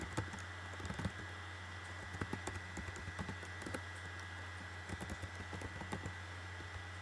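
Keys tapped on a Mac computer keyboard while entering account credentials, a quiet scattered run of light clicks in short bursts over a steady background hum.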